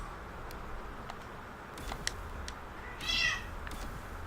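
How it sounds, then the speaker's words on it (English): A few short meows from pet cats in a room, scattered and fairly soft, with one brighter, louder cry near the end, set against a low hum and quiet background. "You hear that? Those are my cats."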